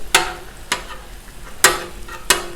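Bacon and sausage on a warm, unlit 36-inch Blackstone griddle, a soft sizzle punctuated by four sharp metal spatula scrapes across the flat top, close and without speech.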